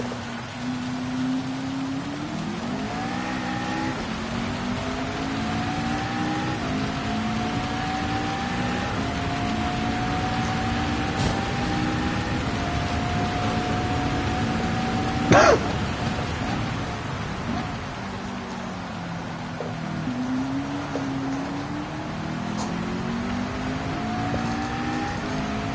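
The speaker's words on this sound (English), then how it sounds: "How loud the rain is." Heavy rain hisses steadily over the Red Bull Ring in Gran Turismo 7 while race car engines whine and shift pitch up and down throughout, with one sharp click midway.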